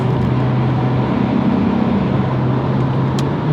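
A 2022 Honda Civic 2.0L with a Ktuner tune and an Invidia Gemini R400 exhaust drones steadily under acceleration, its engine note rising slightly as VTEC comes in, loud and close throughout.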